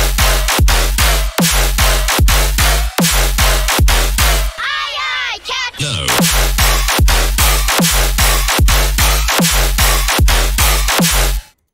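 Stompy tearout electronic track in a drunken-sailor style, loud and dense, with a pounding four-on-the-floor kick and heavy bass stabs, broken by a short wobbling synth breakdown midway before the driving beat returns.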